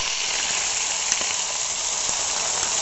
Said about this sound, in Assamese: এতিয়া মই যিখিনি মিক্সিত পিঁয়াজ, আদা, নহৰু আৰু লং ইলাচি দি লৈছিলোঁ সেয়া মই তেলত দি দিছোঁ।